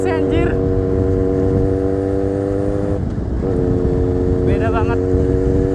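A Kawasaki Z800 with an SC Project exhaust revs loudly in repeated sharp bursts over a deep idling rumble, with a short dip before the next throttle blips, and a voice speaking underneath.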